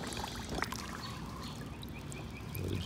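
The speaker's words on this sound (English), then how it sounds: "Let it just fill up with water." Water gurgles and trickles quietly as an Intex pool vacuum fills up while held underwater in a swimming pool, with soft bubbling and faint splashes.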